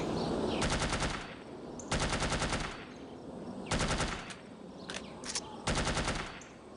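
Automatic gunfire in the spy shooter No One Lives Forever, four sharp sustained bursts spaced about two seconds apart, each lasting under a second, close and loud with no talking.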